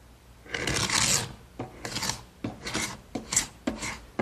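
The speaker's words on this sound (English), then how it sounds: "scrape off the excess glue that's squeezed out. And to do that, I'm just going to use an ordinary paint scraper." An ordinary paint scraper rasps over freshly glued-up wood to remove squeezed-out glue, with several short, close scraping strokes in an uneven rhythm and no talk.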